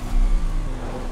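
A Lamborghini in the Forza Horizon 5 racing game accelerates with a loud, close, continuous engine roar that rises and holds through the short moment, with no voices.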